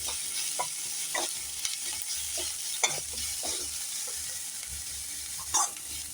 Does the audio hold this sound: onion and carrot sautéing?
yes